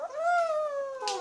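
A single drawn-out, tonal cat meow close by, lasting about a second and rising then gently falling in pitch, with no other sounds around it.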